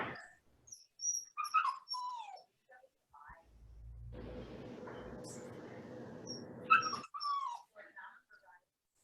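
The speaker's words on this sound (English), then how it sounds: "Oh, Chris, sounds like your dog wants to play." A pet dog whimpers at home during an online fitness class, giving high thin whines and squeaks scattered across the clip, quiet and close to the microphone, with a burst of broadband noise in the middle.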